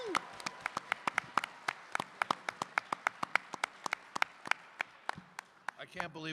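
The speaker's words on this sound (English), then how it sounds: "One more round of applause for David, everybody." Audience clapping at a voice actors panel at a convention: a brisk round of sharp, separate handclaps from a modest crowd, steady for several seconds before tapering off, with a voice starting up at the end.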